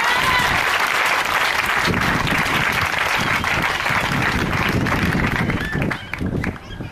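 Church congregation at a Sunday service breaking into dense, sustained applause and cheering that fills the room, with voices calling out among the clapping before it thins near the end.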